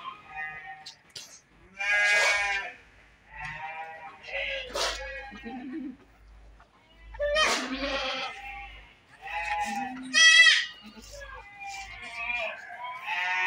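Goats in a pen bleat repeatedly at feeding time, several loud calls rising and breaking off between pauses, with quieter bleats close by and some speech mixed in.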